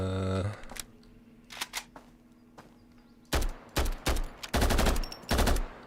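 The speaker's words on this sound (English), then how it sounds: "Okay, I have to test the recoil" Test firing a gun in Road to Vostok: a short burst, a few isolated shots, then several loud bursts of automatic gunfire in quick succession, close and sharp.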